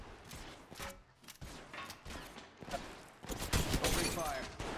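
Rapid bursts of gunfire from the mobile battle royale game Apex Legends Mobile, with repeated volleys and thuds that build louder toward the end, under occasional in-game voice callouts.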